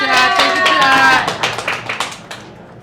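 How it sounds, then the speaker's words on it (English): A small group claps for someone, several close sharp claps that thin out and fade over a few seconds, with a voice and a whoop heard at the start. "Applause for Chad"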